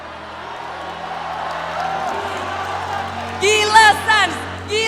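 A crowd at a Mobile Legends: Bang Bang esports finals cheers and whoops in bursts over a low arena rumble, with a loud voice talking over them.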